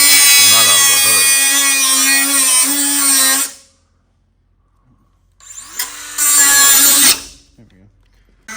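A power tool cuts open the hood of a 1964 Ford Galaxie to free a stuck nut, giving a loud, close, high-pitched whine for a few seconds, then a pause, then a shorter second burst.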